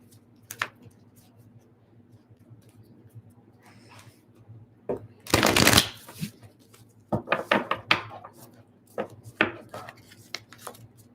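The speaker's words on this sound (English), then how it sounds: "So let's shuffle these energy cards." Tarot cards are shuffled in several quick riffling bursts, crisp and close, separated by short pauses over a faint steady hum.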